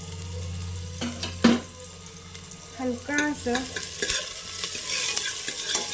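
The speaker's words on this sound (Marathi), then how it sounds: "तेल गरम झाल्यानंतर इथे मी कांदा टाकणार आहे थोडासा" Onion frying in hot oil inside a pressure cooker, a steady soft sizzle with scattered stirring scrapes and clinks, close by, with a brief murmur of speech near the middle.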